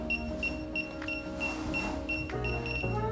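A series of short, high electronic beeps from DJI O4 Pro FPV goggles binding repeats at a steady pace, fairly faint, over background noise and occasional clicks.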